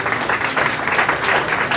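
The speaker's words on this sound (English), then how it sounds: "So can we have a round of applause?" An audience at a corporate achievement awards ceremony applauds an employee's promotion, a dense, even burst of many hands clapping at once, loud and close, with no talk over it.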